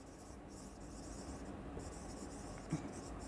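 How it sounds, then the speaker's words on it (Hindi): Marker strokes on a board during an accounts class, a soft, continuous scratchy writing sound under steady room hiss, with one brief tap near the end. "मैं बस वही कैपिटल रिजर्व यहाँ पर लिख दूंगी"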